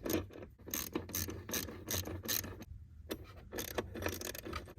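Acuity Instruments pedal spacer bolts being tightened with a ratchet wrench, giving rapid clicking ratchet bursts in short repeated strokes with brief pauses, close and fairly loud, no talking.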